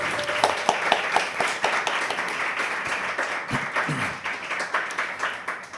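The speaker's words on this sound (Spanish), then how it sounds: "Un aplauso para Robin, por favor." Live audience at a Spanish-language podcast event about Haiti applauds a guest with steady, dense clapping that holds for several seconds, with a few louder individual claps standing out near the front.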